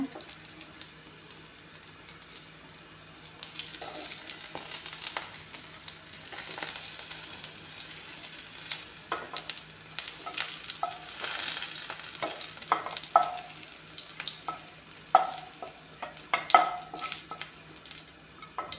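Okra pieces frying in a pan of oil and being stirred, with a steady close sizzle and repeated scraping stirs that grow louder and busier toward the end; no one talks.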